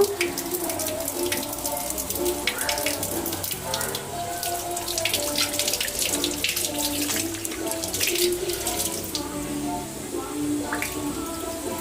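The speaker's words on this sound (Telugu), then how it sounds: "సో అలా స్క్రబ్ చేసుకుంటూ వాష్ చేసేస్తున్నాను" Water runs steadily from a tap during scrubbing and washing, with splashes and scattered knocks on top of the continuous flow, near and fairly loud, with faint background voices.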